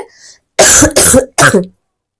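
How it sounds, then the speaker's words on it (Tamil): Three harsh, close coughs in quick succession, the first two nearly back to back, followed by silence. "அம்மாடா இருமல்"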